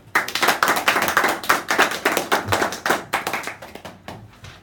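A small audience at a lecture claps in a loose, rhythmic burst of distinct hand claps that gradually thin out and fade toward the end.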